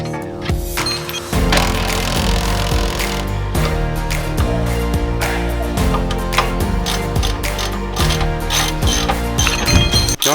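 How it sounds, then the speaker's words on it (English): Ratcheting and rattling mechanical tool noise, likely an impact gun or ratchet, runs loud and steady while the shock absorbers come out of a Nissan Silvia S14 drift car. "Taking these shocks out is pretty easy"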